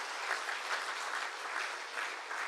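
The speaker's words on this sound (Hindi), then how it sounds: "इनके लिए जोर से ताली बजा करके अभिवादन।" An audience at a Brahma Kumaris Shivjayanti gathering claps steadily and loudly, a dense continuous wash of many hands with no voices over it.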